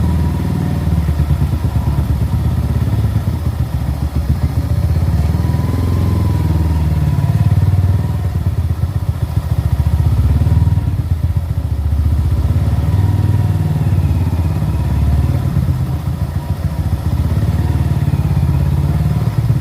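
Motorcycle engine droning while riding, a loud, steady low rumble with rattling clatter and wind noise throughout, no voices over it.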